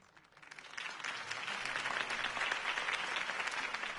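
A video game crowd in Batman: The Telltale Series breaks into applause after a speech, swelling quickly and then holding as a steady, dense wash of clapping, heard alone without talk.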